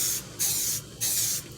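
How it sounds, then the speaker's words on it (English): Black spray paint hisses from an aerosol can onto a tumbler cup coated in Dawn dish soap, in two loud, close bursts of about half a second each, separated by a brief pause. "before the Dawn can run, I'm going to spray it with my black paint."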